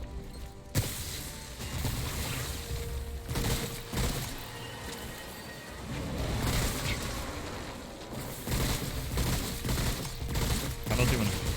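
Gunfire in the video game Remnant: From The Ashes, played on NG+ Nightmare difficulty against a boss: dense, continuous bursts of shots and impacts mixed with game effects, loud and busy throughout.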